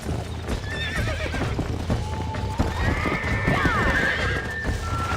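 In Red Dead Redemption, horse hooves clip-clop and a horse neighs loudly amid scuffling and other activity, with a voice briefly heard.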